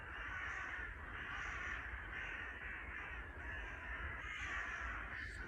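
Agitated alarm calls from a group of crows ring through a forest, with repeated harsh caws overlapping steadily at moderate distance, set against a constant airy background and no talking.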